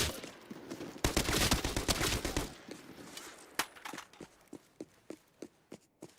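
Rapid bursts of video game gunfire in a loot-based shooter, a dense loud volley early followed by sharper spaced single shots and short bursts, with little talk.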